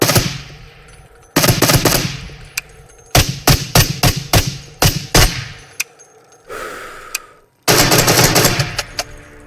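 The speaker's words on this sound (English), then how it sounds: "here is the FN-17, a Belgian-designed battle rifle with semi-auto or full auto capabilities" An FN-17 battle rifle with a worn silencer fires in Into The Radius VR, with loud bursts and rapid single shots cracking in quick succession, broken by brief pauses and metallic handling clicks.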